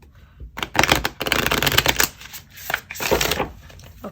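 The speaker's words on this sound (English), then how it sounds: "I don't like the cards are not shuffled well." A new deck of playing cards is shuffled and riffled repeatedly, giving loud, close, crisp rattling bursts in several quick runs with short pauses between them.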